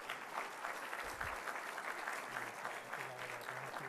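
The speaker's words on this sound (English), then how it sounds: "Everybody give her a round of applause," Audience applause at a teacher of the year awards ceremony, steady clapping from a seated crowd filling the whole stretch with even density, with faint voices murmuring underneath.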